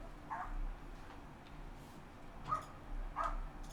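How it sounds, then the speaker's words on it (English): Dogs bark outside in an Ace Attorney Investigations 2 scene, a few faint distant barks scattered over low steady background noise. "Yes, there are dogs outside."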